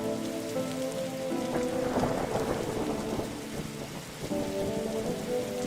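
Steady rain drums on a car in the video game Darkside Detective while thunder rumbles low through the middle, a continuous wash of sound with no talking.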